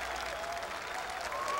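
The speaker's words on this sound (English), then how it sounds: "he will hear this same applause in tribute of a 5-time master champion" Golf gallery at the 1986 Masters applauding a five-time Masters champion, a steady, distant wash of clapping from a large crowd that holds even across the whole moment.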